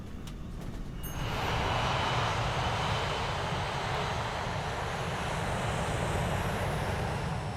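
Airliner engines on Aloha Flight 243 surge into a loud takeoff roar after a brief quieter moment, then hold a dense, steady rushing drone to the end, without speech.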